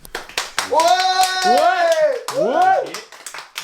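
Hand claps and loud whooping, cheering voices from a small group rating tartiflette wood-fired pizza with an applause meter. Sharp claps open and close the clip around sustained vocal shouts.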